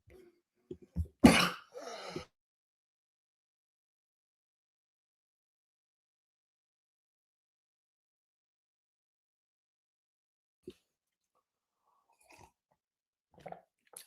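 Early on, one person gives a short burst of two or three coughs with throat clearing, close and fairly loud, then near silence with a few faint soft noises.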